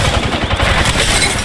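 Rapid bursts of video game gunfire crackle densely and loudly through the whole short stretch, one shot tumbling into the next with no pause.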